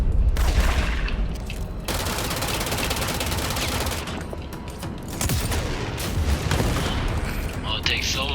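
Sustained rapid gunfire from the Spinner, an area-damage weapon in the video game Control, fired against groups of enemies: dense, loud, continuous bursts with brief breaks and a louder stretch near the end, mostly alone.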